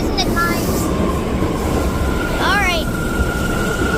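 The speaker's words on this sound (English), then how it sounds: "our A train is finally here" A New York subway A train pulls into a station, bound for Far Rockaway. Its loud rumbling roar fills the platform, with a sustained tone and a brief squeal of wheels partway through.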